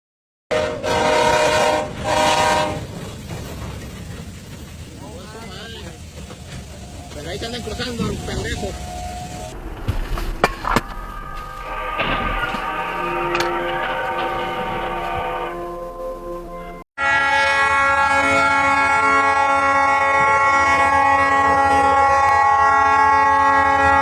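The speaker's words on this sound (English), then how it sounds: "Motorists were forced to abandon a car stranded on level crossing before it was struck by 2 trains." A train horn blares as two trains strike a car stranded on a level crossing, loud rumbling and a sudden clattering burst, then a sustained horn blast continues.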